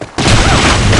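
Grenade explosion and gunfire in the online shooter BlackShot, a loud sustained blast and rattling burst filling the whole moment after a brief quiet start.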